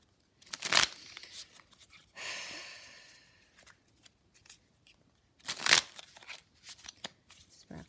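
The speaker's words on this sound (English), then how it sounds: "now I'm just shuffling the Thoth deck" A Thoth tarot deck is shuffled by hand in a quiet room, with several separate riffling bursts and a longer sliding shuffle between them, plus softer card handling and rustles.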